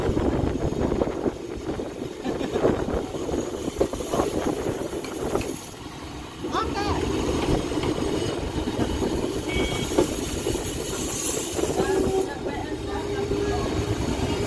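A Bhuj to Rajkot daily special passenger train heads toward Rajkot Junction, giving a steady, close rumble and rattle of wheels on track that carries on throughout with a brief dip midway.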